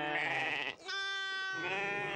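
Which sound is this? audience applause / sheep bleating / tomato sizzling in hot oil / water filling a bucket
sheep bleating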